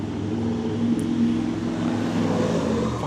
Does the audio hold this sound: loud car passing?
yes